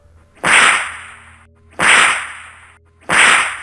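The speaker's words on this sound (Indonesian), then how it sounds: "suara cambukan berulang-ulang di sekitarnya" Sharp whip cracks in an audio drama strike three times at an even, slow rhythm, each loud and close with a quick swishing decay, and nothing else in the quiet gaps between them.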